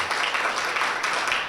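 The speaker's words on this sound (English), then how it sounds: "Let's give Lynn a big round of applause." Brief, dense round of audience applause at a community gathering, steady and fairly loud throughout.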